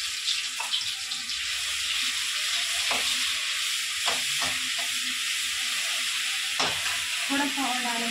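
Homemade ginger garlic paste frying in a pan, a steady sizzle broken by several clinks and scrapes of stirring.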